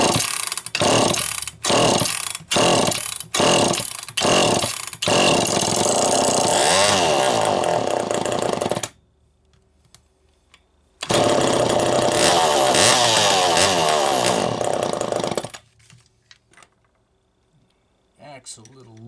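A Homelite EZ Automatic chainsaw on a test run after repair, first several short revving pulls, then a loud sustained roaring run, a pause, and another long high-revving stretch before shutting off, close and dominant.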